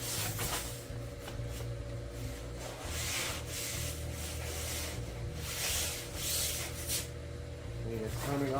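Steady scrubbing of a surface, a continuous rough rubbing rasp rising and falling in strokes, with a low hum running underneath.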